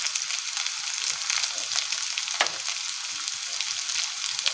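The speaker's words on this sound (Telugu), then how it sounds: "ఇవన్నీ వెజిటేబుల్స్ అన్నీ ఫ్రై అయ్యే వరకు ఫ్రై చేసుకోవాలి." Chopped carrot and potato with salt and turmeric fry for masala poha upma, a dense continuous sizzle close up, with one brief scrape of a stir midway.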